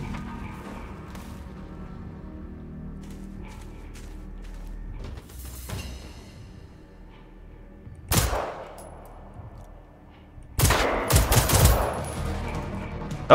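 Gunfire from the Generation Zero video game, mostly sparse single shots and short bursts over quiet ambience, ending in a loud, dense volley of shots and impacts.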